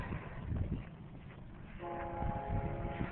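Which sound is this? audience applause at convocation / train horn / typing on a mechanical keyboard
train horn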